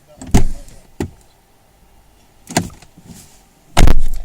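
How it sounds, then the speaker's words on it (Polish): Door mechanism sounds from a Mercedes GLC Coupé with ignition and engine switched off: several sharp clicks and clunks as the driver's door latch releases and the door opens, close by, spaced irregularly over a few seconds. "wyłączamy zapłon, wyłączamy silnik i otwieramy drzwi kierowcy"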